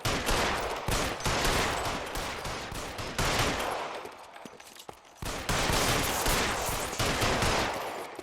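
Pistol gunfire in the video game L.A. Noire, a gold pistol among the weapons, comes as a dense run of loud shots in bursts with short gaps, continuing nearly throughout.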